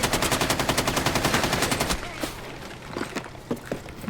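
Rapid automatic gunfire in a first-person shooter video game, a steady burst of shots for about two seconds followed by scattered separate impacts and pops.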